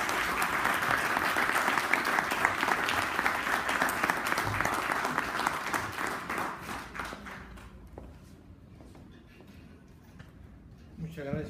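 A seated audience at a commemorative event gives the arriving speaker a strong round of applause, a dense continuous patter that slowly thins out into scattered claps and fades near the end, with voices murmuring underneath.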